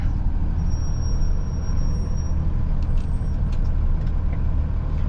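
A delivery truck idles on a narrow city street, its engine a steady low rumble throughout with a brief hiss of air brakes near the start, close by and fairly loud.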